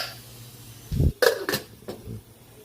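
A lid goes onto a cooking pot of pork ribs nilaga, a couple of close metallic clanks and rattles followed by a short settling clink.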